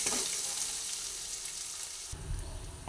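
Masala with Kashmiri chili powder fries in a pan, a steady close hiss and sizzle with faint stirring that cuts off sharply near the end into a low rumbling clatter.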